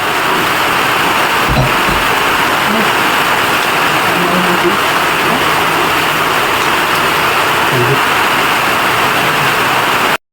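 Heavy rain pours down in a dense, constant hiss throughout, loud and close, with low rumbling beneath and a few faint thuds mixed into the downpour.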